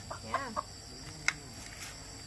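Chickens brought to a Vietnamese market to sell give a few short, faint clucks spread over a couple of seconds, with no talking over them.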